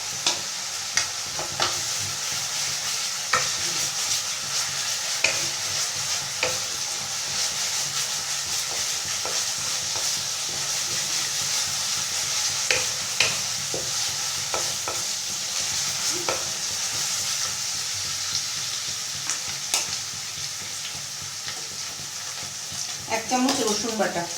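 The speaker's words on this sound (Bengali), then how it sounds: "এবার দিয়ে দেবো আদা বাটা।" Chicken lajawaab frying in a pan as ginger paste goes in and is stirred, a steady broad sizzle with repeated scraping strokes of the spoon throughout, close and fairly loud, with no talking.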